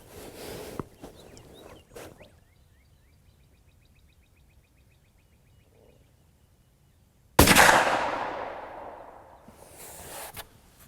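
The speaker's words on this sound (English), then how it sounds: "We're going to take a shot and see what happens." A single loud rifle shot fired while sighting in the rifle cracks out sharply, followed by a long decaying echo rolling off, preceded by quiet outdoor ambience with faint birdsong.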